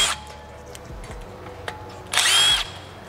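A power drill spins briefly to back out Phillips head screws holding a brake rotor on a Kia Stinger GT-Line, with short whirring bursts and one louder, sustained run near the end, close up.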